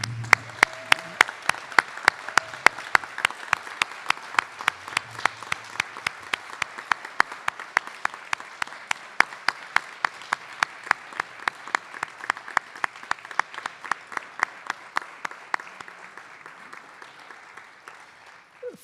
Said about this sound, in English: So I would like to ask for one more round of applause and congratulate you on